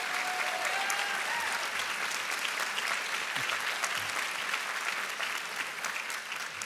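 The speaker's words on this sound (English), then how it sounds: "Can you give them a round of applause" Sustained applause from a commencement ceremony audience for the class speakers, dense and even throughout, with a brief whistle or tone near the start under the clapping.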